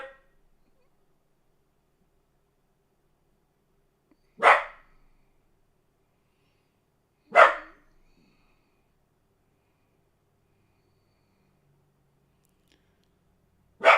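A dog barks three separate times at a distance, single sharp barks spaced several seconds apart over an otherwise quiet background.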